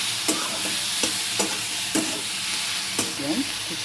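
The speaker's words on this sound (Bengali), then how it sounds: "এবং কিছুটা পরিমাণে কারি পাতা ভালো করে ভেজে নেব।" Curry leaves fried with masoor lentils and grated raw turmeric in hot oil give a steady close sizzle. Light stirring strokes cut through it every half second or so, and nobody speaks.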